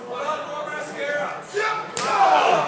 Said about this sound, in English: Huge clubbing forearm to the back of Kakoa.